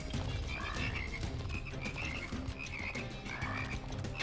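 Frogs croak steadily in the game Immortal Redneck, a dense, continuous chorus of repeated croaks close by with no talking.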